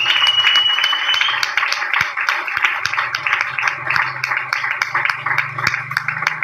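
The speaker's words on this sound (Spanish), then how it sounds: "Pídele un aplauso allí si tiene fuerza, si tiene ánimo" Applause from a church congregation during a sermon, a dense, steady wash of clapping filling the whole stretch with scattered louder claps and a faint low murmur underneath.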